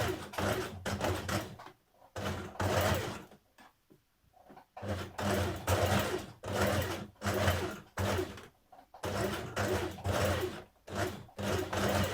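A sewing machine runs along a trouser waistband seam, stitching in the ditch in several loud whirring bursts separated by short pauses, close and continuous, with no speech.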